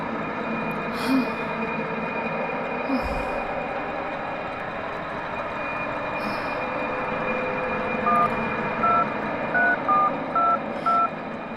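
A telephone is dialed for a call, with a quick series of short, clear, evenly spaced keypad tones near the end over a steady background hum. A faint breath comes earlier, and no one speaks.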